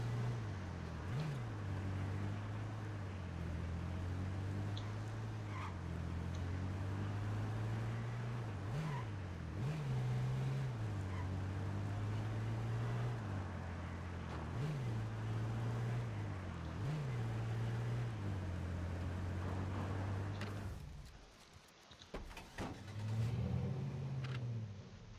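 Worn-out car driving in the H1Z1 survival game, a continuous low engine drone with periodic revving swells, fairly close and alone, dropping out briefly before resuming near the end.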